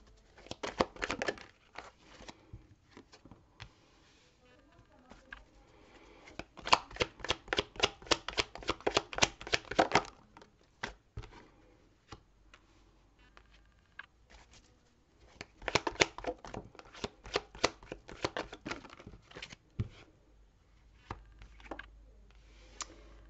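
Tarot cards are shuffled in bursts of crisp, rapid riffling clicks with quiet gaps between the runs, close and fairly soft, with no speech.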